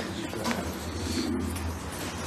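Damascene pigeons coo close by, soft repeated low throaty calls over a steady background.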